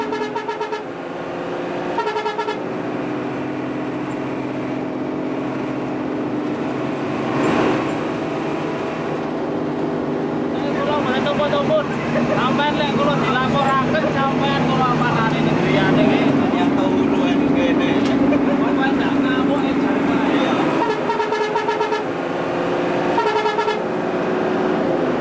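A cartoon bus horn honks among busy background music and voices, with a sustained tooting tone swelling in the middle of the scene.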